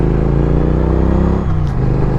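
A Triumph Street Twin motorcycle engine runs steadily with a deep, loud rumble and strong low harmonics, its pitch dipping briefly partway through, as if shifting or easing off the throttle.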